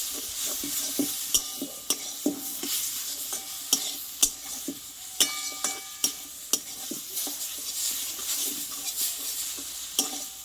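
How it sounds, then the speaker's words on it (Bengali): Pumpkin leaf paste fries in oil while a utensil scrapes and taps the pan at a steady rhythm, sharp clicks riding over a constant close sizzle, with no speech. "এভাবে কিছুক্ষণ আমি একটু ভেজে নেবো"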